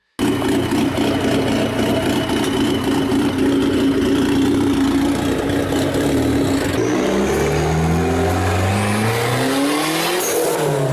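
A loud turbocharged Dodge Neon SRT-4 engine roars and revs continuously, its pitch sweeping up and down in powerful surges nearby, with no voices.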